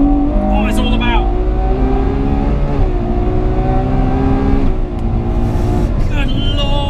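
A Ferrari 812 Superfast on the Fiorano track roars loud and close, its engine revving hard through rising harmonics, then briefly dropping at a gear shift before pulling strongly again.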